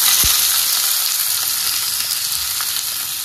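Cinnamon sticks and cloves sizzle loudly in hot oil, a dense, continuous crackling hiss heard up close with a faint tap or two near the start.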